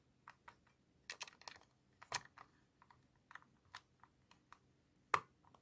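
A screw turning into a plastic thread gives a series of small, close clicks at irregular intervals, with a few louder snaps among quieter ticks.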